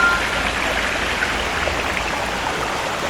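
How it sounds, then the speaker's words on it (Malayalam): Water flows steadily at the Paloor Kotta waterfall pool in Malappuram, making a continuous rushing wash that stays loud and even from start to finish. "നമ്മൾ താഴെ കണ്ട വെള്ളച്ചാട്ടം തുടങ്ങുന്ന കുളമാണിത്."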